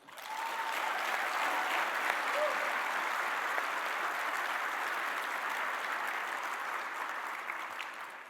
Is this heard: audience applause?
yes